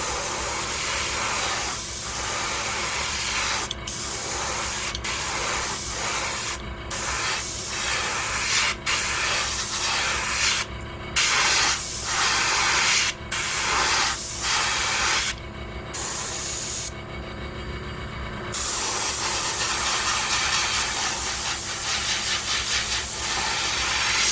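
Spray paint in Candy Poison Green is misted onto a Megabass 110 Jr fishing lure blank in light coats, a loud continuous airbrush-like hiss in repeated bursts with brief pauses between passes.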